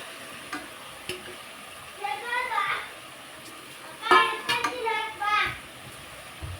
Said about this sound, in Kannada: ಎಣ್ಣೆ ಒಳಗೆ ಸೊಪ್ಪು ಸ್ವಲ್ಪ ಚೆನ್ನಾಗಿ ಫ್ರೈ ಆಗಲಿ